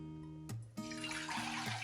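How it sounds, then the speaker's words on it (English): About two cups of filtered water pour into a cooking pot for a flaxseed hair gel, a steady splashing rush that starts after a brief tonal hum. "You're going to take your 2 cups of water and put it into your pot."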